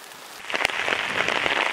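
Rain falling outdoors during a walk makes a steady, close patter with scattered sharper drops hitting nearby surfaces, growing slightly denser as it goes.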